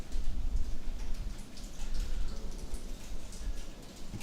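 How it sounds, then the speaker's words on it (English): Heavy rain falls steadily, a dense close patter of drops on a surface continuing throughout with no talking. "It's really raining."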